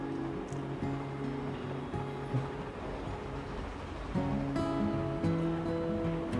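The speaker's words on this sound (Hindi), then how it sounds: "पानी का पंप, जो खेती करते हैं उसको पानी देने के लिए इस तरह पंप लगाया जाता है" Motor-driven water pump in a rice field in rural Telangana, releasing a steady, continuous rush of water that swells louder partway through, with a low mechanical hum underneath and no talk.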